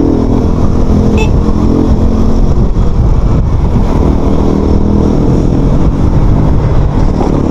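A Shineray Rio 125 fuel-injected motorcycle engine roars steadily and loudly, revving and pulling hard under acceleration with no pauses.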